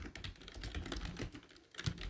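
Rapid typing on a computer keyboard, a close run of clicking keystrokes during an FTP login in a hacking walkthrough.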